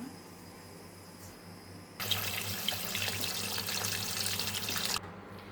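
A kitchen tap runs while fish pieces are washed for a fish curry. Quiet room tone comes first, then the water gushes loudly from the faucet for about three seconds and cuts off abruptly.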